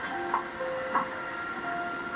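A train in a TV episode scene rumbles steadily with faint squealing accents, a continuous rail noise with no clear talk.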